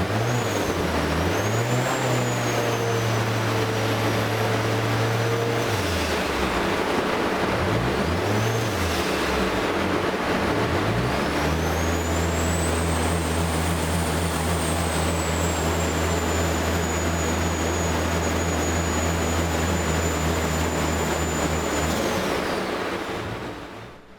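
Turbocharged Mazda MX-5 Miata with a forged engine runs on a dyno in a time-attack build, holding loud steady engine tones with rising and falling revs and sustained high-rpm pulls, close and continuous without talk.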